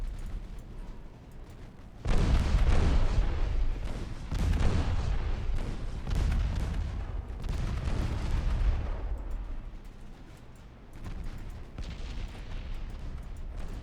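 Heavy naval gunfire from battleship guns in the Ultimate Admiral Dreadnoughts naval video game, with loud repeated booming salvos rolling together into a sustained barrage that swells and eases over several seconds.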